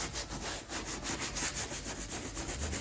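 Brisk back-and-forth scrubbing of suede shoes with a brush during cleaning, a steady rhythmic rasping repeated many times at close range and moderate loudness, with no voices.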